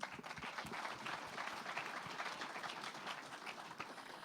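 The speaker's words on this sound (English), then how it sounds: "Let's give one more round of applause for those startups." A conference crowd applauds startups steadily, dense clapping from many hands heard at a moderate distance, sustained for several seconds.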